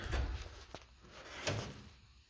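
Drawer on a Yukon work bench sliding shut without a soft-close feature, landing with a couple of short, moderately loud thunks that stop abruptly, with no talk.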